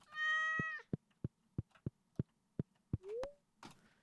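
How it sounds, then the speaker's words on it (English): A cat meows nearby, one drawn-out meow followed by a short rising one later, with a steady series of sharp clicking sounds in between. "Hello, cat."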